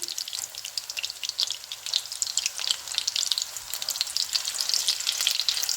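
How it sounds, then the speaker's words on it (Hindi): Chicken shami kababs fry in a pan as a steady, dense sizzle with fine crackling and spitting, close and fairly loud, no voices. "अब मैं इनको फ्राई करूंगी"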